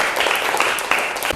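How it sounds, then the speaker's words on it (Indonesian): Classroom students applauding a student group, a brief burst of dense, close clapping with a few sharper hand slaps throughout. "Tepuk tangan dong untuk kelompok 3."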